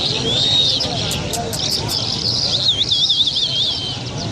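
Parrots and other caged birds at a bird market in Lalokhet, Karachi, whistle and chirp in thin, warbling calls over a busy background of crowd chatter and people talking nearby.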